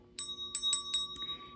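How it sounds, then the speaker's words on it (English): A small bell rung before a children's story time, giving about four quick bright chimes close up, followed by a softer ringing tone as it fades, with no talk over it. "before I read, we're going to ring the bell."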